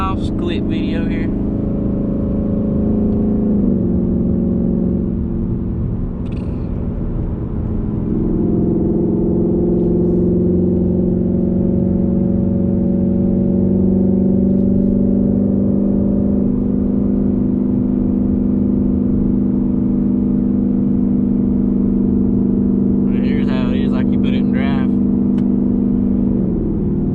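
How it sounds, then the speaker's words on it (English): Close, steady exhaust drone from a 2018 Ford Mustang GT with a Coyote V8, cruising and accelerating on the road around 2,000 RPM, rising in pitch partway through and holding a continuous rumble. "Just trying to get a good exhaust clip video here."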